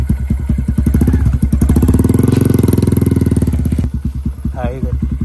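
A 2024 Honda Grom fitted with a Yoshimura exhaust and tune runs close by with a rapid, loud, throbbing exhaust pulse that swells briefly into a rev before settling back to a choppy idle.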